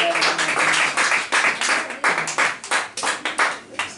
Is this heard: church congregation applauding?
yes